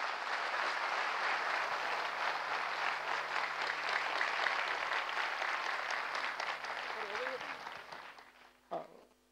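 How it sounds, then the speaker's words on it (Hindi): Sustained clapping from the audience at a herbal care product training session, fairly loud and steady, thinning out toward the end before a brief voice cuts in. "एक बार फिर से जोरदार तालियां बजाइए"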